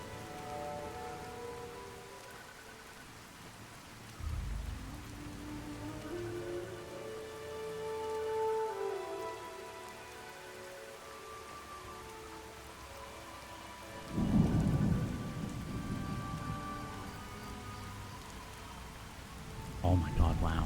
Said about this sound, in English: And hopefully the rain has stopped, because it's killing my ability to do this.